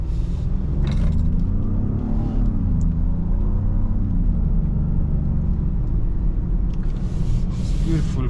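A 2025 Genesis GV80 facelift pulling away, its engine a low steady rumble that rises slightly in pitch as it moves off, heard from inside the cabin with a voice talking over it.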